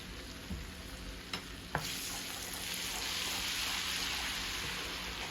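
Oxtail fries in a pan with a steady, dense sizzle that swells and holds loud, broken early by a few sharp clinks of stirring, with no voices.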